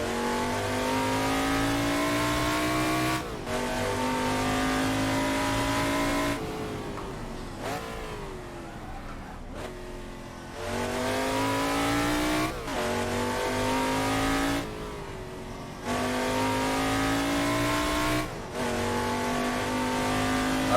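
A Shelby Daytona's engine in a racing video game on the Isle of Man TT course, revving hard and climbing through long gears, with repeated sharp drops at each shift before rising again, loud and close.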